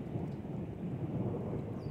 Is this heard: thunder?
yes